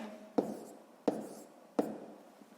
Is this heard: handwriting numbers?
yes